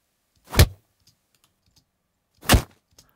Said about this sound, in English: So I'm going to choose punch knuckle.